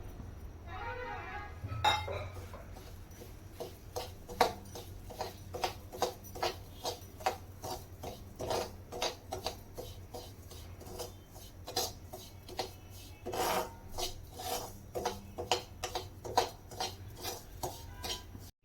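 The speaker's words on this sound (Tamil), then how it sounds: "இப்போ இந்த ரவையை இதில் ஆட் பண்ணி நல்லா பொரிச்சா மாதிரி வறுத்து எடுக்க போகிறேன்" Semolina (rava) roasting and being stirred in a pan for rava kesari: a steady run of light clinks and scrapes as a utensil moves against the pan, faint and continuous, with no talking.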